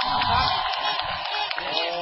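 A large political rally crowd in Phayao claps and cheers, with dense, steady applause and shouts throughout, heard from within the crowd and fairly loud.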